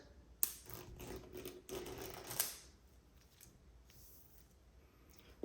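Plastic shrink wrap on a Xiaomi 12 Pro phone box being peeled away by its pull tab in a few crinkly pulls with sharp snaps, close and quiet, then it goes nearly silent.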